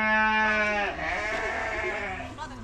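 Hungry sheep in a village barn give a long, loud bleat up close, followed by softer overlapping bleats from the flock.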